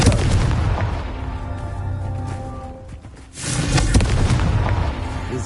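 Booming fiery blasts from the Confringo spell in the video game Hogwarts Legacy, one heavy explosion at the start and another after a brief lull, loud and close.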